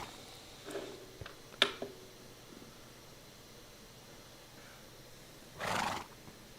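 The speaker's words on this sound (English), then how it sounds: "That horse totally took me by surprise there." A horse neighs in a game: one short whinny near the start, a sharp burst soon after, then a longer, louder neigh near the end, with quiet gaps between.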